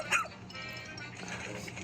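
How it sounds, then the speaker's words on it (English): A cartoonish dog yips and barks once near the start of a Pikmin game trailer, then fades under music and faint background talk. "Some sort of dog?"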